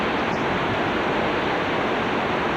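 Hurricane Katrina wind roars in East Gulfport, Mississippi, a loud, constant buffeting rush with microphone wind noise and no pauses.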